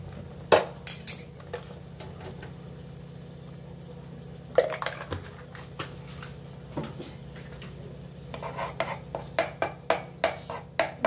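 A metal spoon stirs egg burji curry in a pan, clinking and scraping against the metal in irregular taps over a low steady hum, with a quick run of closely spaced clinks near the end.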